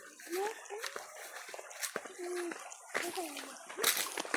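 A creek runs and splashes outdoors in a soft, continuous wash, with children's and adults' voices talking over the water.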